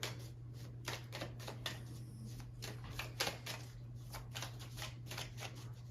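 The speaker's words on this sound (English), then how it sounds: "I'm gonna shuffle for the tent, temporary solution, and June." Tarot cards shuffled by hand in a rapid series of soft, close riffling snaps, steady throughout over a quiet low hum.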